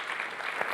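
Audience applause at a university showcase of talks, a brief burst of steady, even clapping from a seated crowd, heard alone.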